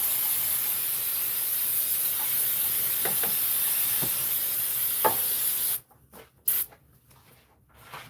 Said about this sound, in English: we're gonna take some more brake cleaner, clean that area off so we don't contaminate the belt